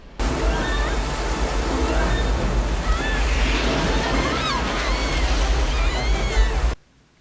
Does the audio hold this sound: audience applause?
no